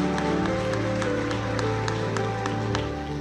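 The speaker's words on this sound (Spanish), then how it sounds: "Dele un fuerte aplauso a Dios." At a Christian conference plenary, a congregation claps in praise while music plays underneath: sustained group applause with steady rhythmic hand claps over a held keyboard or organ tone.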